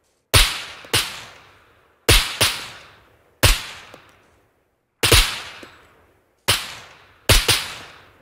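Rifle fire from .308 ammo at a sentry in SCUM: loud, close, cracking shots in quick pairs and singles, about ten in all, each ringing off with a short decaying tail, no talk over them.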